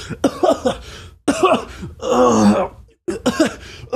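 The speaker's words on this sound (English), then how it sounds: "they're like lined up for food and they're shivering and coughing" Several men cough and clear their throats in rough, hacking bursts with short pauses, one drawn-out groaning cough in the middle, close and loud, in a cold camp.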